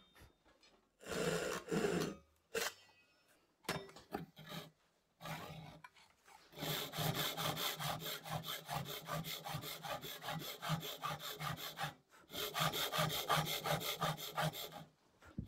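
A Japanese pull saw cuts through wood with rapid rhythmic rasping strokes, each pull a crisp scratchy burst, starting with a few hesitant strokes then settling into fast steady sawing close by with short pauses, no talking.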